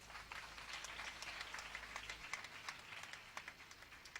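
A church congregation applauding a brother called to the front, brisk steady clapping from many hands at a moderate distance, no voices over it.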